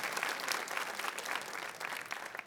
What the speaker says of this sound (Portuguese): Podem bater palmas para o Senhor.